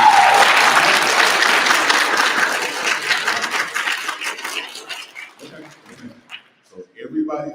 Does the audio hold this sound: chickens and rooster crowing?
no